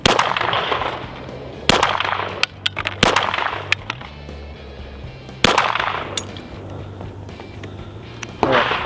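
Pistol shots fired at targets outdoors, several loud sharp reports spaced irregularly with ringing echoes between them and no talk.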